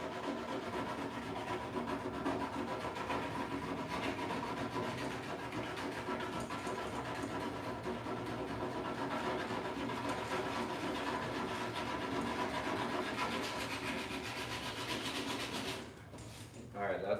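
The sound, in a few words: sanding inside a dent on a truck tailgate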